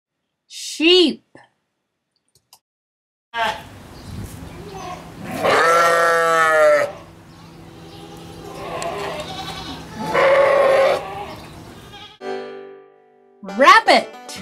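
A sheep bleats loudly over a steady rumbling background, with a quavering call followed by another, and brief spoken words before and after.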